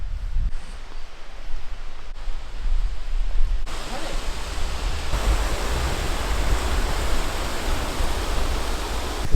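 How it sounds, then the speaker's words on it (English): Steady broadband rush of falling water at the top of Pistyll Rhaeadr waterfall in Wales, a constant roar that grows fuller and louder partway through, with no talk over it. "We are at the top of the waterfall."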